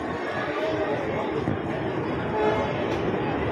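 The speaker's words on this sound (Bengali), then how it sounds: "আমাদের ট্রেন অলরেডি ঢুকে গেছে, দেখাচ্ছি আমাদের ট্রেন কবিগুরু এক্সপ্রেস" The Kaviguru Express, train 13016, arriving at a station platform gives a continuous heavy rumble. Crowd chatter mixes in around it, with a louder swell near the end.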